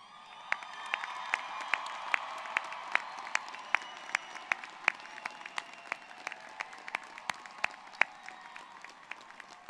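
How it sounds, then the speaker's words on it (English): A large crowd at a college commencement ceremony applauds and cheers, with sustained clapping under a steady stream of sharp individual claps, some scattered whoops and shouts throughout. "would you please stand if you are able and cheer?"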